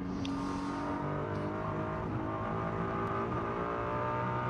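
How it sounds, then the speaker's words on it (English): Race cars at the 72nd Macau Grand Prix produce a continuous, fairly loud engine drone. Harmonic pitches shift slightly as the revs rise and fall, and no one speaks. "When you're sitting on board, it's just glorious to hear the cars, isn't it?"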